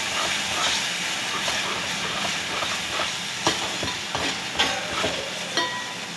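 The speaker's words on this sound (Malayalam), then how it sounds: "ഞാൻ ഇടുവാണ് ചവ്വരി. നല്ലപോലെ നെയ്ക്കകത്ത് കിടന്ന്" Sago pearls sizzle in hot ghee in a pan, a steady close hiss with scattered soft pops and stirring clicks throughout.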